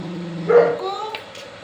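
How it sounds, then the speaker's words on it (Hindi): A dog gives a single short bark, close and moderately loud, followed by a faint whine against a quiet background. "और मोती भौंक रहे, चल।"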